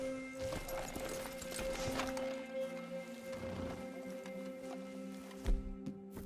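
A mule's hooves clip-clop at a walking pace in Red Dead Redemption 2, a soft, fairly steady series of muffled thuds mixed under droning ambient game music and environment sound, with no talking.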